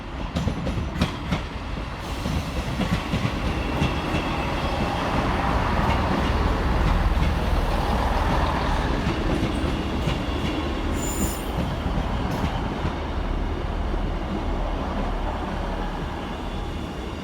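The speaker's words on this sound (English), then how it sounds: "Next arriving into the station is 158-854 and 158-812 with the 1239 East Midlands Railway service from Liverpool Lime Street through to Norwich." Two East Midlands Railway Class 158 units run into Manchester Oxford Road on a Liverpool Lime Street to Norwich service, making a loud, steady rumble of wheels and engines with brief wheel squeal, with no talking.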